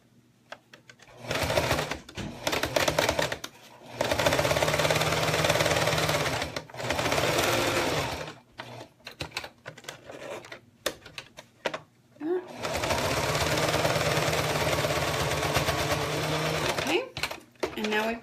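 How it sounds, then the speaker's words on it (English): Sewing machine top stitching alongside a zipper, running in long steady bursts with short pauses between passes, close and clear, with some quiet talk in the gaps. "I'm going to top stitch here."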